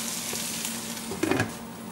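Sliced onions and green chillies sauté in hot oil in a pan for an egg puff filling, a steady close sizzle with a brief clatter of stirring partway through.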